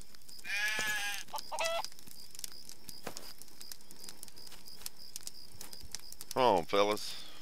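Synthetic sheep bleats in the video game Craft The World sound briefly at the start and again near the end, with clicking and tapping from gameplay in between.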